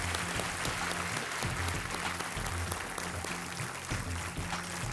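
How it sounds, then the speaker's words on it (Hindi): A television quiz-show studio audience applauds to welcome a contestant, dense continuous clapping filling the space evenly throughout, loud and sustained. "तालियों के साथ इनका स्वागत किया जाए"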